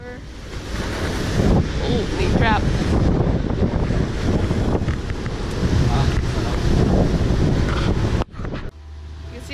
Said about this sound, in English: You can see how big these waves are.